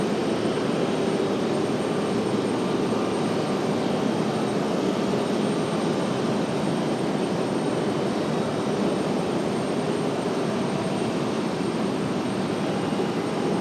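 Republic Airways jet airliner in special livery at Raleigh-Durham airport, a steady, loud broadband engine roar that holds evenly throughout with no talk.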